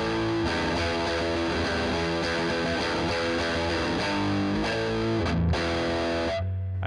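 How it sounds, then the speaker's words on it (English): Distorted electric guitar riff played through a Paul Reed Smith amp with the bright switch on, dense and sustained with a crisp top end, ringing alone and cutting off sharply near the end. "I'm going to play that same riff again with the bright switch on."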